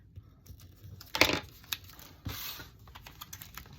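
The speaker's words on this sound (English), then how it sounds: "I'm going to come over here and pull the tape off this side" Tape peels off a scrapbook page in a quiet room, a couple of short close tearing rips amid light handling clicks and rustles.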